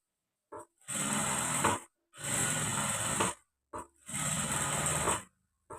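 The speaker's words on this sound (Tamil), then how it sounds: "இந்த மாதிரி அவசரப்படாமல் மெதுவாக தைக்கணும்." A sewing machine stitching blouse fabric at slow speed, running in three long, even whirring bursts separated by short pauses and brief clicks, close and alone without speech.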